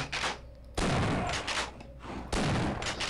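Shotgun blasts in the game Half-Life, two loud booming shots about a second and a half apart, each with a harsh crack and rolling tail, close and alone.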